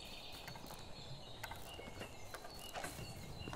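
A gander calls in the medieval farming game Medieval Dynasty, a faint, distant gobbling honk over a low outdoor ambience, with no talking.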